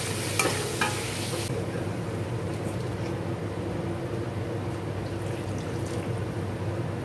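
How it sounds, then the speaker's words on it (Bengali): Ground cumin, coriander and Kashmiri chili powder sauté in a hot pan, giving a loud, continuous close-up sizzle with a couple of sharp stirring scrapes near the start. "এগুলো দিয়ে দেবো, একসাথে কষা হয়ে যাবে।"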